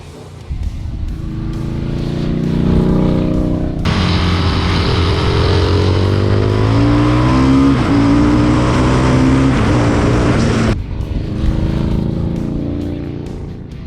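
An Indian Challenger RR bagger race motorcycle is ridden on track, its loud engine droning steadily and rising in pitch as it accelerates through the middle stretch, then easing back. The sound is close and continuous, with no talk.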